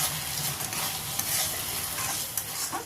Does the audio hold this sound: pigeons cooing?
no